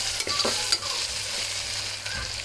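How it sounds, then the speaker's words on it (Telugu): Coriander leaves frying in a pan for mutton liver curry crackle with a steady sizzle, while a spoon scrapes and stirs through them in a few close, soft strokes. "అలానే కొంచెం కొత్తిమీర వేస్తున్నాను. చూడండి, ఇలా కొంచెం ఫ్రై కావాలి ఫ్రెండ్స్."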